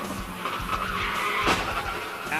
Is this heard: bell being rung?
no